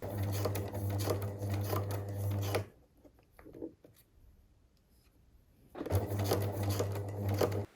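Close, steady hum and rapid needle clatter of a sewing machine stitching silk fabric for a princess dress, in two runs separated by a quieter pause with faint handling taps.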